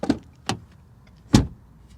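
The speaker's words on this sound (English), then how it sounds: "Door open and close sound from the outside" A 2021 Ford Bronco Sport door clicks open, then after a pause slams shut with a solid thud, heard close by from outside the vehicle.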